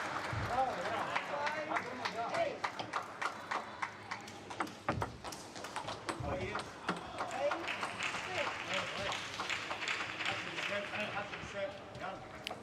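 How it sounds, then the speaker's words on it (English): A coach claps in quick, uneven bursts during a Paralympic table tennis singles qualification match at Tokyo 2020, the sharp slaps mixed with ball clicks and running under steady commentary talk. "You can hear the Turkish coach clapping on this last point"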